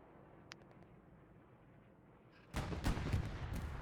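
Artillery gun firing in a multiplayer military strategy game match: after near-silence and a faint tick, a loud, sudden blast erupts and rumbles on with a few overlapping booms to the end.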